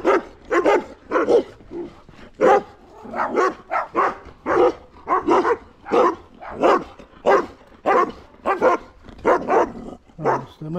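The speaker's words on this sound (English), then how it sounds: "Very big dogs." Several very big, deep-voiced dogs in a Cypriot village bark loudly and close by in repeated overlapping bursts, with a few whimpers mixed in over about ten seconds.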